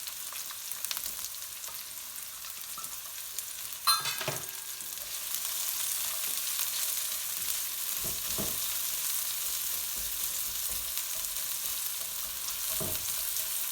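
Chopped red onion and green chillies frying in oil give a steady, close sizzle throughout, with a brief utensil clatter early on.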